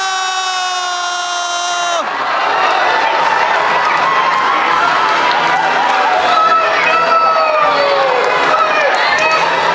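Audience cheering and whooping at a family cruise ship deck show, a loud crowd roar with children's shouts after a brief opening tone, sustained to the end.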